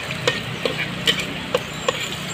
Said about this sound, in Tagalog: Tustahin lang natin to siya guys hanggang sa mag-brown.